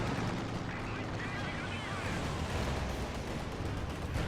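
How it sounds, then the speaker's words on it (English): An artillery barrage in the Company of Heroes 2 video game makes dense, rumbling low booms and crackling blasts that blend into a continuous roar at moderate level, with a voice talking over it. "Ooh, that barrage was very close."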